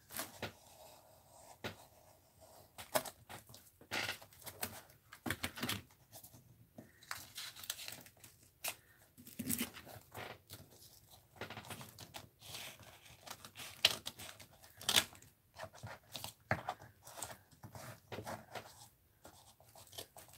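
A utility knife slices through material in short, scratchy bursts, close and faint, with rustling and handling noises between cuts and long quiet gaps.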